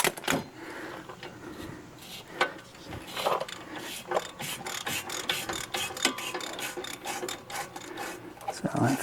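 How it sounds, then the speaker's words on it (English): A ratchet wrench turns a 14mm triple square bolt on the front strut of a 2008 VW Mk5 GTI, giving repeated rasping clicks in irregular bursts close by, with no voice. "Let's get a ratchet in that."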